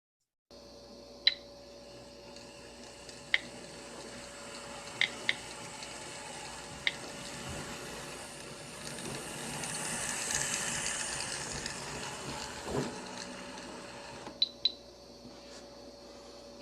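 A model train locomotive fitted with a Stayalives circuit runs quietly along the track with a faint steady hum and whirr, punctuated by several sharp metallic clicks from rail joints or wheels.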